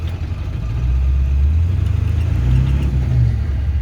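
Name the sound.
truck engine driving, heard with windows up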